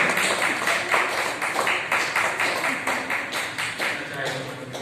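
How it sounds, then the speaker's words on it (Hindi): People clap in rhythm to welcome a guest at a Mission Vande Matram Foundation event, a brisk run of close, steady claps mixed with talking voices. "तालियां बजाकर स्वागत करते हैं।"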